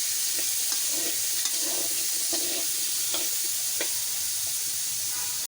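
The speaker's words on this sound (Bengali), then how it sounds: "এর মধ্যে আলুগুলো ভেজে নিচ্ছি হালকা করে" Potatoes fry lightly in a pan with a loud, continuous sizzle and occasional scraping stirs, heard alone and close.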